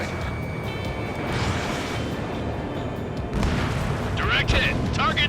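Missile strike explosions in the combat flight game Ace Combat 7 rumble low and steady beneath continuous jet and battle noise, with a louder burst about two-thirds through and radio voices chattering over the action.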